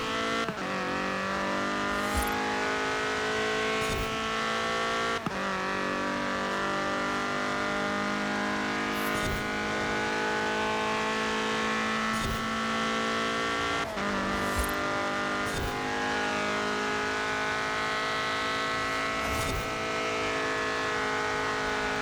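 A car engine in Forza Horizon 4 racing game revs hard and holds high, steadily whining pitch, with several sharp gear-change drops and rises over a continuous loud drone.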